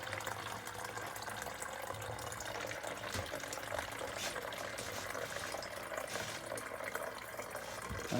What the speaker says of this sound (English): I'm going to pour it into this 2-liter bottle, just like this.